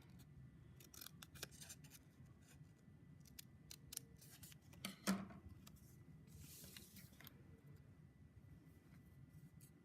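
Scissors snip paper in a quiet room, a string of soft, faint cuts repeated steadily against low background noise.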